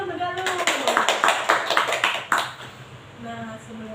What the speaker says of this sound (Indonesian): Tepuk tangan dulu untuk Galuh.